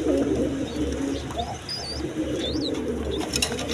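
Pigeons in a loft holding a breeding pair with chicks coo softly and repeatedly over a steady low background hum, with a few faint chirps mixed in.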